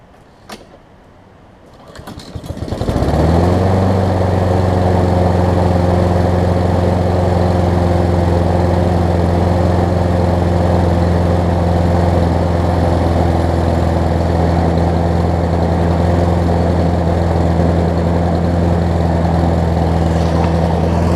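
A Honda engine on a Craftsman self-propelled push mower, cold-started on choke, catches after a short stretch of quiet and settles into a loud, steady, even running drone that holds unchanged to the end, with no voices.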